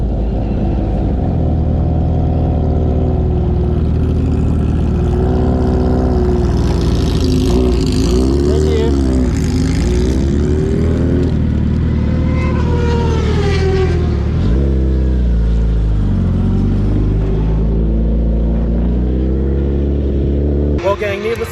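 A Suzuki Hayabusa motorcycle makes a drag strip pass, its loud, continuous engine drone rising and falling in pitch throughout, with a voice talking over it.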